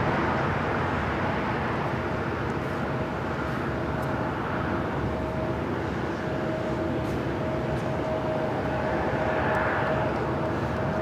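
A Boeing 787 Dreamliner at LAX produces a steady, broad jet engine roar that holds for the whole stretch, loud and continuous with no talking.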